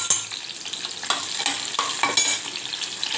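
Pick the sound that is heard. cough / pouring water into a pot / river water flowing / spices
spices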